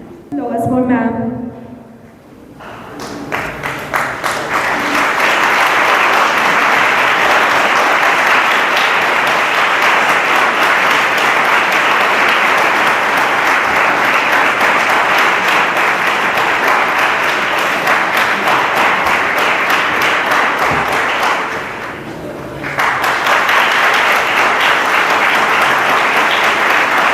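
A large audience at an NCC camp ceremony breaks into loud, sustained applause that runs for over twenty seconds, dipping briefly near the end before swelling again, with a voice speaking at the very start.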